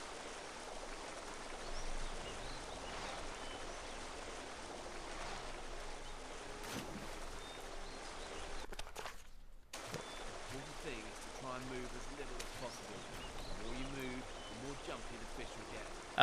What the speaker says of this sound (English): that is one loud ass waterfall